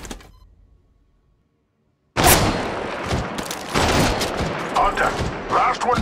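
After a short near-silent gap, loud close gunshots and rapid firing erupt in Apex Legends Mobile, sustained for several seconds with sharp bursts and clattering impacts.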